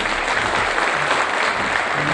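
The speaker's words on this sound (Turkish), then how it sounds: "ilk önce Bucan abiyi az önce alkışlattım ama bir kere daha alkışlayayım." Dense, loud audience applause fills a hall at an anniversary celebration of a long-running orchestra in Silivri, a steady wash of clapping throughout.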